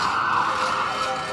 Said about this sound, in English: Okay, ambulance.